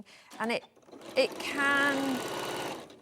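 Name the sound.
sewing machine stitching a quarter inch seam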